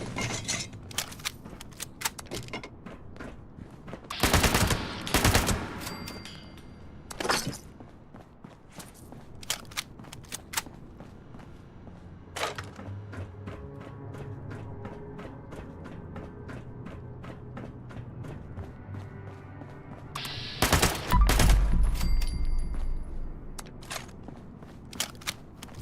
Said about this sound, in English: It is quieter than a normal machine gun, which is good.